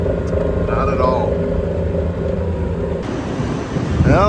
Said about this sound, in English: Well, the rain and the thunder have arrived.